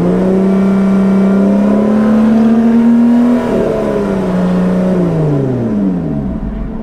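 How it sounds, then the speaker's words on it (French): A car engine held at about 5000 rpm for a sound-level check at a racing circuit drones loud and steady, its pitch rising slightly before dipping and wavering as the revs ease off, with no talk over it. "Pour le sono, 5000 tours. Je me mets à 5000."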